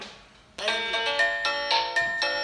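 An Artego intercom door-phone monitor rings out with a repeating electronic chime after a brief quiet start, about five evenly spaced bright tonal pulses, close and clear with no talk.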